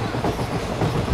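A moving train rolls steadily with a continuous rumbling clickety-clack of wheels on rails, loud and close throughout with no voices.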